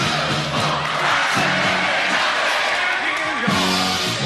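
A large arena crowd at UK Gladiators in 1992 chants and sings a chorus together, a loud, dense roar of massed voices with rhythmic sung phrases rising and falling throughout.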